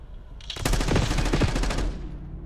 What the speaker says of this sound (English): I just gotta shoot my gun